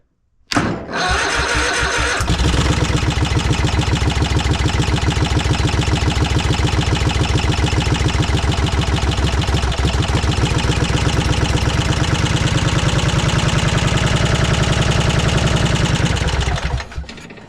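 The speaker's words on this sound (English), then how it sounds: "who is ready to hear a cold start?" A Craftsman lawn mower engine starts cold with the choke on, catching after a brief crank and then running loud and steady with a rapid, even chatter for about fifteen seconds before shutting off.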